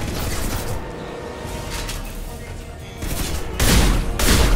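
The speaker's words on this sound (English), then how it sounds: "Incendiary bullets, baby." Rapid incendiary-round gunfire in the video game Mass Effect 2 forms a dense, steady rattle of shots, with heavier bursts and booms in the last second or so.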